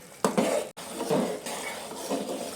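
A spoon scraping and clinking against a pan while sugar syrup is stirred for besan ladoo, in a few uneven strokes with a brief pause partway through.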